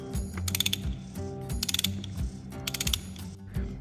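A ratchet with a 32 mm socket works on a BMW E92 330xd M57 oil filter housing, sounding in three quick bursts of rapid metallic clicking, close and clear with no talking.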